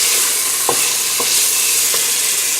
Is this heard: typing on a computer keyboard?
no